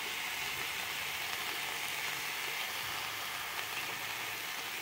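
Fish frying in a pan sizzles steadily after water is added, a constant hissing crackle with no pauses and no talk.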